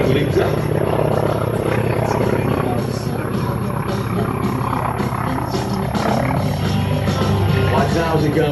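A North American T-28 warbird flies a loop at an air show, its loud, steady radial engine and propeller roar dominating, with a voice talking over it.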